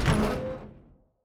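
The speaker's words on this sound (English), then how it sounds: "He was awakened by the sound of the truck door opening." A truck door opens with a single broad, fairly loud clunk and rustle that quickly dies away into silence, with no one talking.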